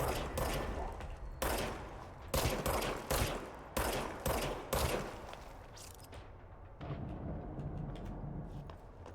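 Shots from a firearm in the video game Control ring out in a series of loud, close bursts, each separated by a short gap, with a lingering roar after the last volleys.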